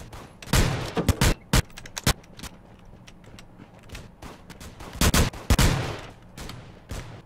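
Bursts of gunfire from the video game Rules of Survival, played in first-person mode: sharp repeated shots and short automatic volleys in clusters, loud and close, with quieter gaps between them.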